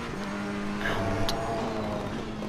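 Onboard engine drone of a GT race car in Assetto Corsa Competizione at Misano, holding a steady loud hum through the lap with slight pitch shifts and no break.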